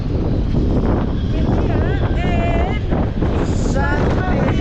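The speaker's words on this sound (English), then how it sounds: "it's a little bit windy" Strong wind buffets the microphone at the beach in Saint Marie Sur Mer, a loud steady rumble throughout, with faint whistling tones partway through.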